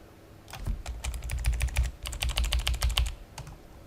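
Fast typing on a computer keyboard, a dense run of close, crisp key clicks in two bursts with a short pause between, no talk.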